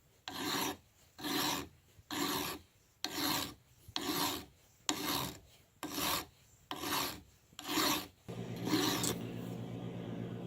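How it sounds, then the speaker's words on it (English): Hand file rasping back and forth across a freshly cut metal pump shaft, nine steady even strokes in close succession, near and loud with brief pauses between, ending in a rougher scraping tail. "We just got to cut this shaft to length and do some filing and stuff"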